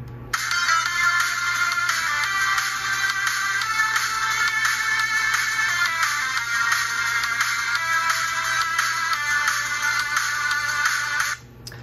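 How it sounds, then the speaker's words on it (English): A ringtone-like melody plays continuously through the budget speakers of a Toshiba Satellite C55D-B5385 laptop, with a thin, tinny tone and a steady level for about eleven seconds before it cuts off. "the speakers on this laptop aren't quite that great"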